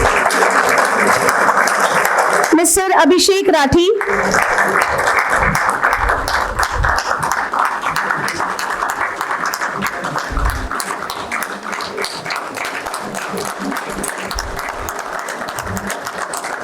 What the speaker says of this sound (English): Let us all keep clapping for all these incubatees.